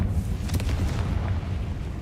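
A Confringo blasting spell goes off in a Harry Potter video game, a deep rolling explosion with a burst of crackle, booming and fading over about two seconds.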